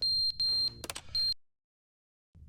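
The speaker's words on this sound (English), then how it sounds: "Oh, it's a smoke alarm." Shrill smoke alarm beeps from The Stanley Parable video game, three piercing tonal bursts with a brief clatter between them, loud and close, then silence.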